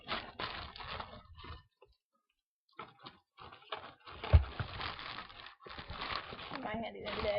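Crinkling and rustling as items are shuffled around inside a bag, with intermittent crumpling bursts and a brief pause midway.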